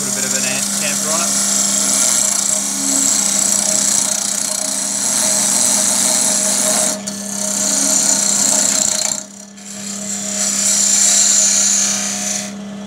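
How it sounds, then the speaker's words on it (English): A jarrah cup spins on a wood lathe while a tool cuts a chamfer on it. A steady motor hum runs under a continuous close scraping rasp, which breaks briefly twice as the tool lifts off the wood. "so we're going to put a bit of an chamfer on it."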